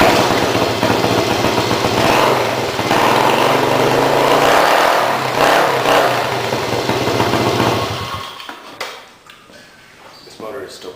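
A cold Kawasaki Z50R minibike engine fitted with a Pro Circuit T4 exhaust idles loudly and close with a raspy, uneven putter, then cuts out near the end, leaving faint clatter.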